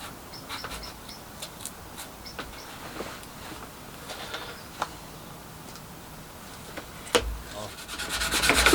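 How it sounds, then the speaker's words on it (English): A glued joint on a small-shed cyclekart's dummy exhaust is filed and sanded down, a close, steady rasping rub made of many short strokes that grows louder and faster toward the end, with no talk. "once that's glued up, I should be able to sort of file it all down and get it to the right profile"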